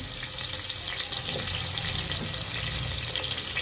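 Onion, garlic, tomato and Byadagi chillies sizzle in a pan, a steady bright frying hiss with soft stirring underneath, close up and without talk.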